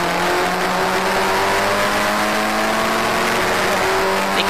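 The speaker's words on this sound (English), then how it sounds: "Great grid of cars as well here at Cadwell Park." Historic Formula Ford race cars lapping Cadwell Park, with a continuous high engine drone of several cars holding steady, loud and close throughout.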